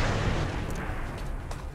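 The rod cannon in the XCOM 2 video game fires as a heavy booming blast with a rumbling low-end roar that slowly decays over nearly two seconds.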